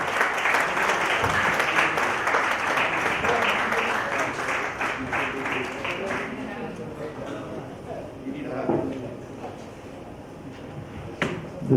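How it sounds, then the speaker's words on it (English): A conference audience at an inclusive cities summit gives a big round of applause, dense and loud at first, then thinning into scattered claps and shuffling as it fades, with a few voices murmuring near the end. "big round of applause"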